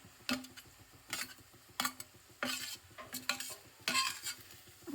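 A spoon stirs capsicum, garlic and chili paste into browned onions in a pan for masala rice. It gives soft, repeated scraping strokes with light clinks of metal on the pan over a faint sizzle, quiet and close.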